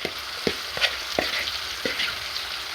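Natural seasoning of carrot, sweet pepper, onion, garlic and scallion sizzles steadily in a pot for curry chicken, with several sharp stirring scrapes breaking through the close, continuous frying hiss.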